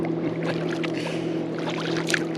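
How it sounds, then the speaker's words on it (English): Water from a passing boat's wake sloshing and lapping against a canoe hull on a river, steady and close, over a low constant hum. "here comes some waves"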